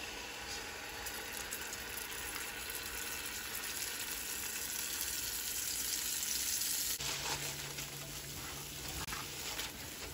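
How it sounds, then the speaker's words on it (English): Masala frying in melted ghee on a stove at medium-low heat, a steady close sizzle and crackle running throughout, with a brief stirring scrape near the end. "So now that our ghee is melted, I'm going to go ahead and add the masala in."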